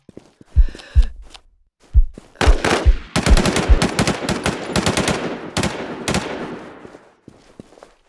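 Gunfire rings out in a shooting video game, with single heavy shots at first, then a dense rapid automatic burst running for several seconds before trailing off into scattered shots.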